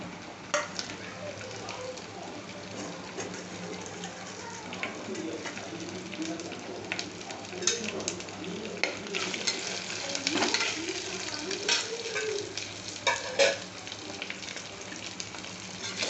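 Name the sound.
onions, green chilli and curry leaves frying and stirred in pan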